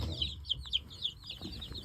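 Jersey Giant chickens cluck in a short series of four or five sharp, fairly close calls on a homestead while meat birds are weighed for comparison, with faint rustling underneath.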